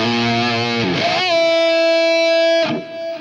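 Distorted electric guitar driven into the amp section of a Roland Boss GT-8 multi-effects unit: a loud, buzzy chord that shifts into a single sustained, saturated note held for over a second before cutting off, with no talk.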